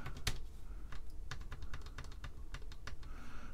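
Close, light clicking of keys on a Unitrex 800K electronic calculator keyboard with key bounce and some dead keys, pressed in an irregular series of taps with no voice.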